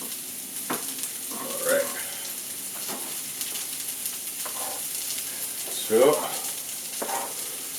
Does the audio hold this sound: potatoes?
yes